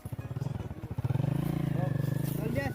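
A TVS motorcycle engine in an Indian village runs with a steady, low throbbing idle that grows fuller partway through, heard close by with a voice speaking over it.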